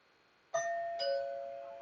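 A Philips doorbell rings once when its two white wires are touched together: a clear, close chime tone that starts abruptly, gets a second strike a moment later and sustains with a slow fade.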